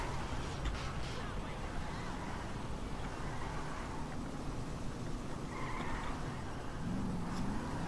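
A purple car drives in GTA 5 with a faint engine hum and tyre noise, quiet and steady, with a brief skid and occasional mumbled talk.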